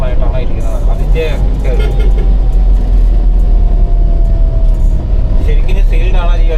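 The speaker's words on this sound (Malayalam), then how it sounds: "എഞ്ചിൻ നല്ല ഒച്ചയുണ്ട് അല്ലേ?" Loud, steady engine drone of a 2024 Force Traveller 2.6 CRDi diesel van heard from inside while driving, with someone talking over it throughout.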